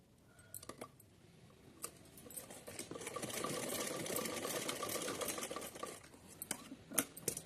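A sewing machine stitches two fabric strips together for a small summer outfit. The run is faint, with a soft steady whir building in the middle and scattered light clicks and handling noises around it.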